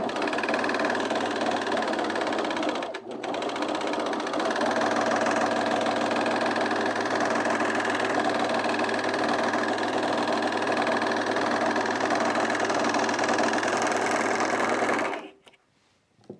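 Sewing machine stitching Mitchell trousers: a loud, steady mechanical whir runs continuously at close range with a brief stop near the start, then cuts off abruptly at the end, no talking.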